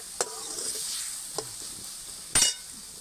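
Tandalja amaranth greens bhaji cooked village style in a pan, with coriander-cumin powder mixed in, sizzles softly under a few sharp spatula scrapes and clinks, close and without voices.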